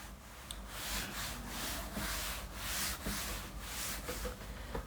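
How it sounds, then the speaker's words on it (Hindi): Writing being erased from a classroom board during a geometry lesson, a repeated rhythmic rubbing swish, about eight strokes back and forth, close and fairly quiet with no talk. "अब थोड़ा सा इधर मिटाते हैं"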